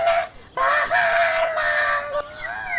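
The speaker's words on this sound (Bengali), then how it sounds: "কাক তখন গলা ছেড়ে গান গাইতে লাগলো" A cartoon crow in an Aesop fable calls out loudly in a few stretched, harsh bursts, a clear bird-like voice alone with short gaps between the calls.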